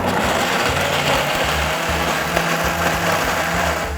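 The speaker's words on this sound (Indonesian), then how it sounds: "Supaya proses blendernya smooth dan hasilnya maksimal." A kitchen blender whirs steadily while blending sauce ingredients with added oil and water, a loud, continuous motor drone held for several seconds with no talk.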